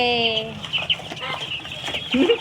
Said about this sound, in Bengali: সেই মুরগি এনেছে যে এখানে দেখো কত মুরগি